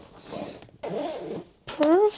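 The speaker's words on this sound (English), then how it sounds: "We just need to zip it." A packed weekend travel bag is zipped shut: two drawn-out zipper pulls, then a brief pause and a final short zip, close up with people talking around it.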